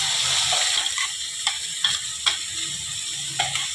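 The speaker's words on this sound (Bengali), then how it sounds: "এবারে আমি এই যে আদা রসুন টমেটো বাটাটা করে রেখেছিলাম, এগুলো পেঁয়াজ এগুলো দিয়ে দিলাম" Ginger, garlic and tomato paste hits fried onions in a hot pan for a spicy egg curry, a continuous sizzle punctuated by several sharp spatters and stirring clicks, close and without speech.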